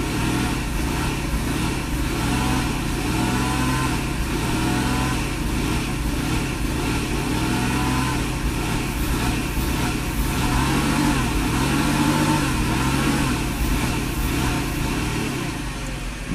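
A Mercedes engine with a faulty throttle body runs and revs under applied gas, a loud continuous close drone with gently rising and falling pitch, and someone speaks over it at times.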